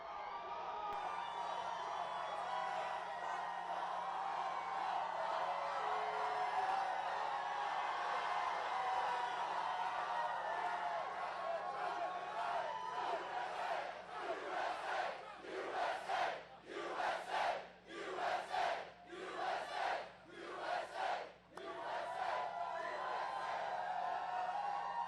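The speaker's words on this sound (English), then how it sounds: "This is a big crowd." A huge crowd roars and cheers at a Donald Trump campaign rally in Gastonia, North Carolina, a sustained wash of voices that later breaks into rhythmic waves of chanting.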